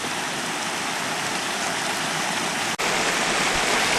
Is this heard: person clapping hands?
no